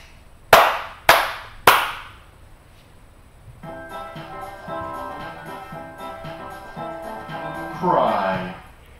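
Three sharp, loud hand claps ring out in quick succession, evenly spaced, followed by a softer stretch of background music and a brief voice near the end.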